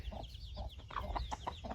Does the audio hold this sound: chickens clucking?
yes